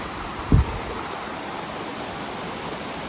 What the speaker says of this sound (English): you just listen to the waterfalls